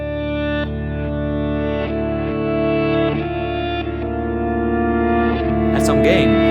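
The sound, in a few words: guitar played through a reverb effects pedal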